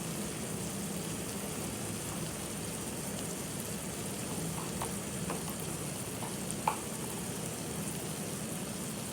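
Spices for egg tadka frying in a pan: a steady, even sizzle with a faint stir or scrape now and then, no talk over it.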